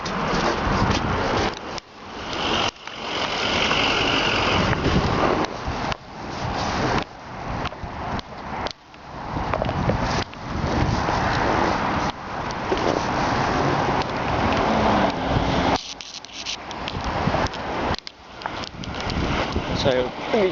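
Strong wind buffets the microphone throughout a ride on a 72V 3000W Cyclone electric bike, a loud continuous roar with gusty surges and brief dips, and no speech.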